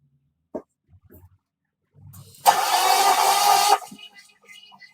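A car engine with a P0300 misfire fault is started during diagnosis: a single loud, roaring burst of about a second follows a few faint knocks and shuffles, then fades to quiet.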